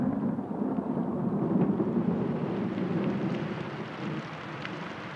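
A summer thunderstorm in Yellowstone rolls on as a continuous low rumble of distant thunder mixed with steady rain, fairly loud and unbroken, easing slightly toward the end.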